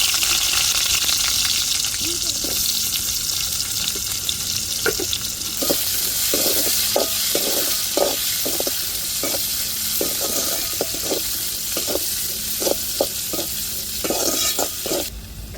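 Mustard seeds and onion fry in oil for a cabbage dish, a constant loud sizzle broken by repeated scraping taps of a spatula stirring the pan.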